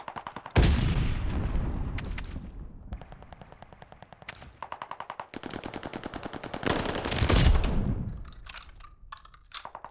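Rapid automatic gunfire in the Call of Duty: Vanguard video game comes in several loud, close bursts of fast repeated shots, with brief pauses between volleys and a couple of heavier blasts.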